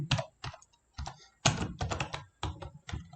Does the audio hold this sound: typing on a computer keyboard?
yes